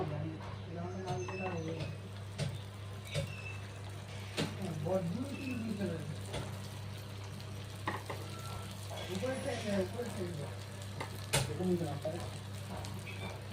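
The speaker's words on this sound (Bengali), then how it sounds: "এখানে তেলটা পুরো গরম হয়ে গেছে। এবার একটা একটা করে বল ছেড়ে দেব।" Potato balls drop one by one into hot oil in a wok, giving a soft continuous sizzle under a steady hum, with occasional clinks and someone talking over it.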